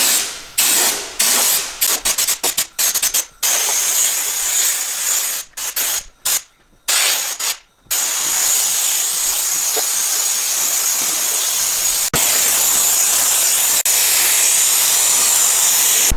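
A spray gun applies Buzzweld rust encapsulator to the body of a Mk4 Escort van in loud, close hissing bursts, first short and broken by brief pauses, then settling into a long continuous spray.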